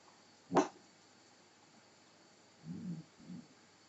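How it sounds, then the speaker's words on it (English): A dog gives one sharp yelp, then after a pause two short, low grumbling whimpers, close by in a quiet room. "My dog seems upset about it."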